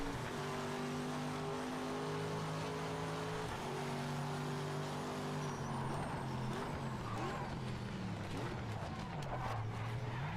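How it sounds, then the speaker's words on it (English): Corvette race car in the racing game Project Motor Racing, a loud continuous engine tone that holds steady and then rises and falls through gear changes, with no talking. "Let's go outside just to hear the car."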